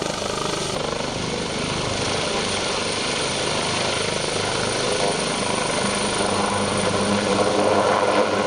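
A Pakistan Air Force helicopter flies close by, its rotor and engine producing a loud, continuous whirring roar that holds steady throughout with no voices.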